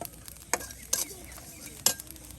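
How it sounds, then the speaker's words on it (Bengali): Spices sizzle and are stirred in a pan for papaya and egg biryani cooked outdoors by a riverbank, with a few sharp scrapes of a utensil against the pan over a faint frying hiss. "এই যে মশলা কিন্তু একদম ভাজা ভাজা করে নেওয়া হলো"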